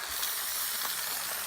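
Ham sizzling in a Dutch oven turned down to low heat, a steady close hiss of frying fat with faint crackles running throughout, with no talk.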